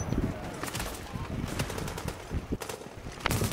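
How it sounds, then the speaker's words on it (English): Rapid automatic turret fire in a video game, bursts of gunshots crackling over a busy mix of game effects, with a loud flurry near the end. "That's the shooting turret, that's all it is"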